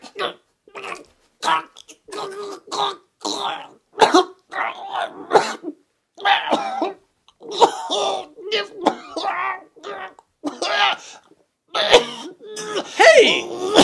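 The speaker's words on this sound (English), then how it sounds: "She's choking him!" A man being choked, gagging and coughing in short, harsh, repeated bursts separated by brief gaps, close and loud.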